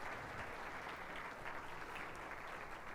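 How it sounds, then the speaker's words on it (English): An audience at a tech conference main stage gives a round of applause for a speaker; the clapping is continuous but quite faint and distant. "So give him a big round of applause, Valentin Gosu."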